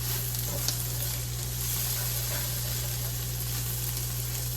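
Plant-based sausage frying in oil in a pan, a steady close crackling sizzle that continues throughout over a constant low electrical hum, with no voices.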